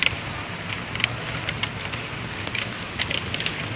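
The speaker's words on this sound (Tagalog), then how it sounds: "Naabutan ako ng ulan doon." Rain falls outdoors as a steady hiss, with scattered louder drops and ticks on nearby surfaces throughout, and nobody speaking.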